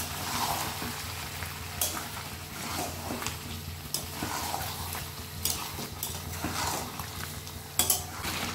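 A spoon stirs and scrapes ginger-garlic paste frying in a pan for chicken curry, with a soft steady sizzle and repeated clinks of metal on the pan, close by and with no talking.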